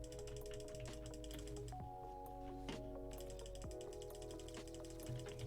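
Keys clatter on a backlit gaming keyboard during play, a quiet, steady run of quick mechanical clicks over a constant background hum.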